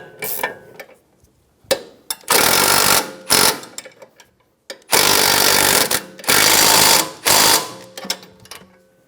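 An 18mm ratchet wrench tightening a front sway bar link nut on a 2013-2017 Honda Accord, close rapid clicking bursts in several runs of about a second each, separated by short pauses.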